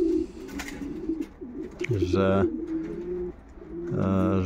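Pigeons coo nearby in low, throaty, repeated phrases, with several distinct calls rising over a background of quieter bird sounds.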